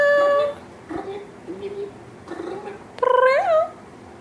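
A cat lets out a drawn-out meow, then a second rising meow a few seconds later, with quiet human voices murmuring in between.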